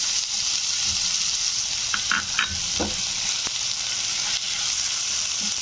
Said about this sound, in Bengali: এবার আমি একটু পেঁয়াজ দিয়ে দিলাম